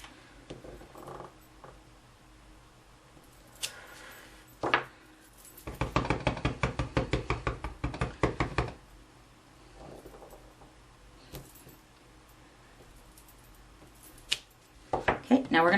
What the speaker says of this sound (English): we're going to stamp both of them with the Old Olive onto Old Olive cardstock